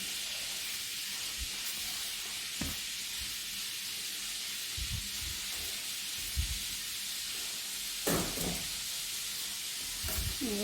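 Flour-coated chicken pieces going into a hot frying pan with butter and olive oil, a soft continuous hiss and sizzle with a few louder bursts and clatters, heard close and without any talk.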